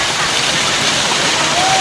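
Steady roar of a natural waterfall in Kengtung, broadband rushing water filling the whole clip without a break, loud and close.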